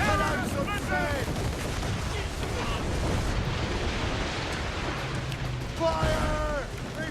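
Ship cannon fire in the Assassin's Creed Rogue video game, heavy continuous booming and roaring battle noise at sea, with shouted orders from the crew near the start and again toward the end.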